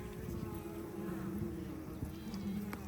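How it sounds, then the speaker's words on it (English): Honeybees in an open hive during a farm hive inspection give a steady, close, dense buzzing drone that holds unbroken throughout, with no talk over it. "look at those bees"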